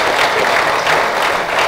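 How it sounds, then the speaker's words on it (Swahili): A packed conference hall in Tanzania breaks into applause for the AIDS committee, a dense, loud, continuous wash of clapping from many hands that lasts the whole moment with no talking. "naomba tuwapigie makofi kamati ya usala ya ukimwi"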